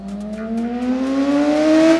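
A used Kawasaki Ninja ZX6R superbike engine revs up close, its pitch climbing smoothly and steadily as the loudness swells over two seconds before cutting off.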